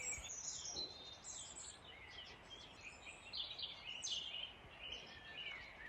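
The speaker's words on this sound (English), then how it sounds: "the most beautiful thing of all is the sound of the birds" Birds sing and chirp at dusk on a chateau terrace, their bright calls overlapping at a soft, moderate distance over a quiet outdoor hush.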